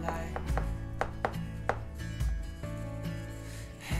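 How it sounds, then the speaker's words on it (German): A knife cutting around the edge of an apple cake with streusel in its baking tin, a series of sharp close taps and knocks at an uneven rhythm, with no talking. "Also wir nehmen uns gleich hier unser Messer zur Hand und schneiden vorsichtig hier einfach mal ringsrum."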